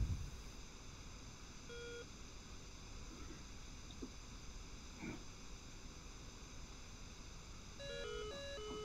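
Radar warning beeps in a flight simulator video game as an SA-11 missile system locks on: a short electronic tone near two seconds, then a quick rapid series of stepped beeps near the end, over steady cockpit noise.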